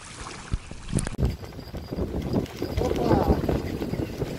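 Strong gusty wind buffets the microphone at a lakeside while fishing for crucian carp, a rough low rumble with sharp knocks and someone speaking over it.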